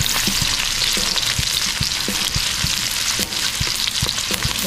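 Onions frying in oil in a pan for a chicken innards caldereta, a loud steady sizzle with frequent sharp taps and scrapes of stirring against the pan, up close with no voices.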